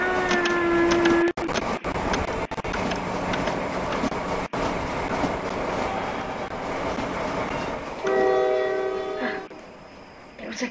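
In the Roblox Jailbreak video game, a train rumbles past with a steady clatter while its horn sounds twice, with one blast at the start and another near the end.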